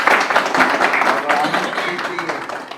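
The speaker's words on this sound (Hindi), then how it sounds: "तालियां।" Crowd applause breaks out at a gathering celebrating the Maharajganj Express News channel reaching 100,000 followers, a dense, steady wash of clapping that fades slightly toward the end, with people talking over it.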